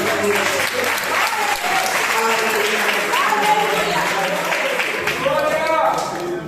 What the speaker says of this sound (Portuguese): As palmas de louvor ao Senhor.